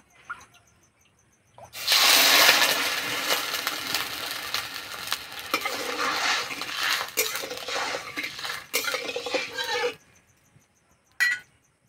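Sugar and water tipped into a wok for the syrup of a palm-fruit sweet, heard as a loud pouring splash with clinks of the bowl against metal, then a short clack once the pour stops.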